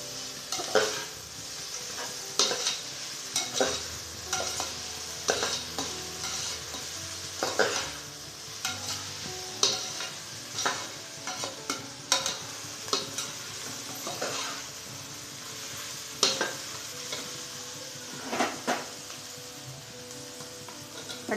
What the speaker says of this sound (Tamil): அடுத்தது புதினாவையும் போட்டு நம்ம வதக்கிக்கலாம்.